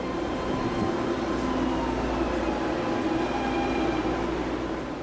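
A legacy BART train built by Rohr Industries in San Francisco, running as a steady, loud rumble with a low hum and faint tonal whine throughout, no voices.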